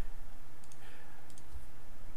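Computer mouse clicking a link, a few faint, sharp clicks over a quiet room background.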